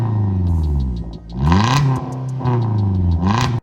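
A Suzuki Jimny with a Valvetronic exhaust, its valves open, revs loudly and close up in several rising and falling pulls with a brief dip between them, giving a throaty, resonant engine roar.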